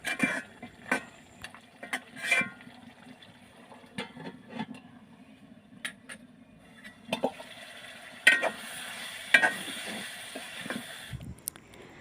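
Beef for Dhaka-style Haji biryani is stir-fried in a pot over a clay stove. A spoon scrapes and stirs in irregular bursts over a soft, low sizzle, close by and without talk.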